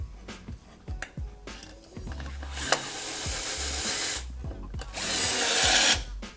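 A power drill drives screws into a chassis brace in short whirring bursts, each spinning up and stopping. Light clicks and handling noises fall between the bursts, with a longer, louder hissing stretch near the end.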